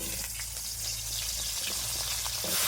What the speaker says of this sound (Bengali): মাছ ভাজার পরে যে কড়াইয়ে তেল ছিল সেই তেলেই আরও একটু তেল দিয়েছি এঁচড়গুলো ভেজে নেব